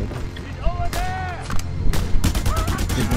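Two-handed gunfire in Just Cause 2: short bursts of loud shots crack out in a couple of clusters, the last one sustained, while someone talks excitedly between and over them.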